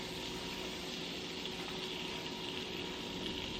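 Butter melting in a hot pan, giving a steady, even sizzle that stays close and constant throughout, with no talking.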